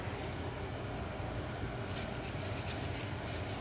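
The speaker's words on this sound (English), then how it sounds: "I'm gonna take this rag here and just clean out any dirt." A rag rubs and wipes dirt from a brake part on a 2009 Ford Flex AWD SEL, producing a continuous close scrubbing noise with a quicker rhythmic swishing in the second half.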